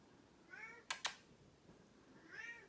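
A cat meows faintly twice, separated by a couple of sharp clicks, in an otherwise quiet room.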